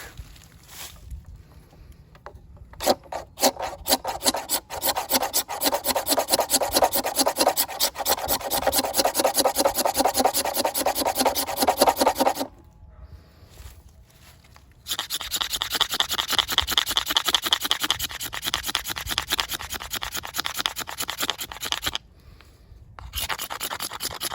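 A knife spine scrapes along a piece of fatwood in long runs of fast, rasping strokes, loud and close, with a short pause partway through and a brief gap near the end.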